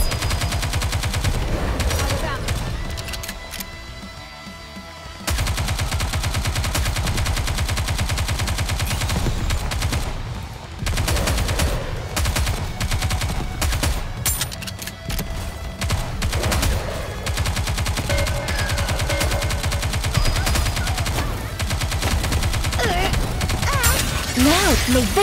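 Dense, nearly unbroken rapid gunfire from the mobile game Goddess of Victory: Nikke rattles on for about 25 seconds with one short lull, under game music and occasional character voices.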